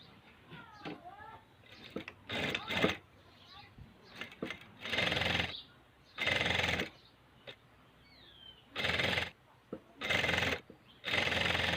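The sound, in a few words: sewing machine stitching a fabric apron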